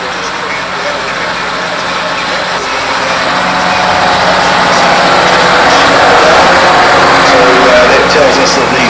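A John Deere 7290R tractor pulling a Fendt 828 Vario tractor: a loud, continuous, heavy engine drone that grows gradually stronger, with an announcer talking over it.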